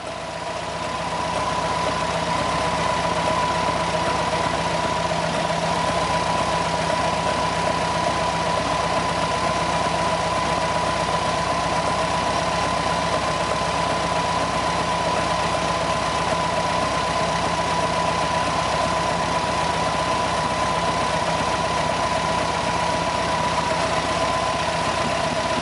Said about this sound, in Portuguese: a rotação do motor chegou a 900 RPM e eu vou continuar fechando porque o motor ainda não começou a embaralhar